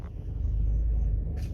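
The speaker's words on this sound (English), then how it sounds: "Very smooth engine, nice even idle." Steady, low, close rumble of a 2003 VW Beetle convertible's 1.6 engine idling smoothly and evenly, continuous and unbroken, with a faint higher hiss near the end.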